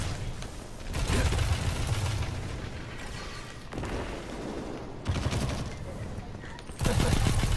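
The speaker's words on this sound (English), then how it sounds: "I got him with the grenade." Gunfire and grenade blasts in the Destiny 2 video game ring out in dense, sustained bursts with a few sharp louder bangs, and players talk over the shooting.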